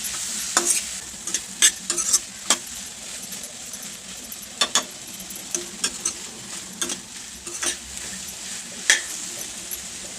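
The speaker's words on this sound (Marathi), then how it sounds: "कांदा बरोबर टोमॅटो सुद्धा परतून घेणार आहोत" Onion and tomato sizzle in a pan while a spoon scrapes and clinks against the metal in irregular stirring strokes, cooking a base for paneer butter masala.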